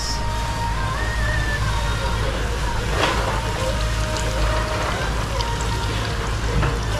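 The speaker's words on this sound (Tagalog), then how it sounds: "Lagyan na natin itong kakang gata." Thick coconut cream pours steadily into a cooking pot while making a vegetable dish with cassava leaves, giving a continuous close splashing rush with a faint clink midway.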